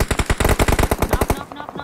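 Rapid automatic gunfire from the battle royale mobile game BGMI, a loud, close burst of a dozen or more evenly spaced shots that stops abruptly, followed by a brief quieter tail.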